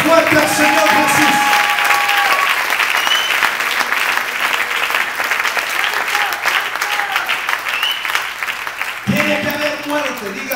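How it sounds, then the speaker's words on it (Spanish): A church congregation claps hard for the Lord during a sermon. Dense, loud, sustained applause fills the middle of the clip, with a preacher's amplified voice before and after it. "Denle un aplauso más fuerte al Señor Jesús."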